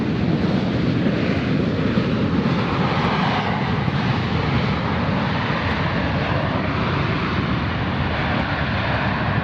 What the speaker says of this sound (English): We just saw the landing of Air Force One.